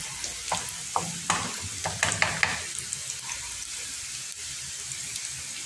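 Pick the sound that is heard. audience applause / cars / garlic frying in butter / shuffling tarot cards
garlic frying in butter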